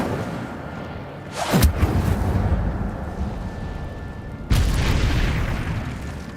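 Incendio fire spell cast in the Hogwarts Legacy video game: a sharp whooshing burst followed by a rumbling boom, then a second loud blast a few seconds later, with no talking.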